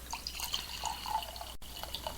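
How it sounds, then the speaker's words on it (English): Sweet sourwood mead from 2013 trickles into a glass in a quiet room, a soft continuous pour with light dripping splashes, close and fairly faint. "The pouring sound you hear is more of David's sweet sourwood mead from 2013 going into my glass."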